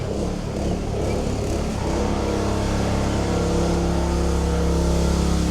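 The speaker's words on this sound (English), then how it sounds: "Red car's still behind me." A car engine on a road in Vancouver, heard from a bicycle as the car follows close behind. A steady, loud low rumble and hum runs throughout with no breaks, with no voices over it.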